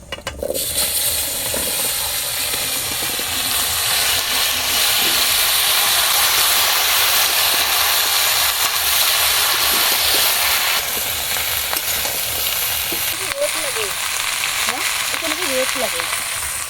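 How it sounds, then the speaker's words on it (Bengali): Cauliflower and potatoes are lightly fried, giving a loud, steady hiss and sizzle throughout, with faint voices toward the end. "ফুলকপি আর আলু হালকা ভেজে নেব"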